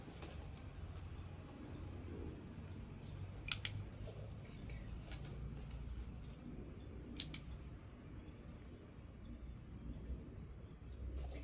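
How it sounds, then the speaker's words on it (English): A dog-training clicker gives a few sharp, crisp clicks, with a single click and then a quick double click, over a steady background hiss and rumble. "I'm clicking and she's looking up to me for her treat"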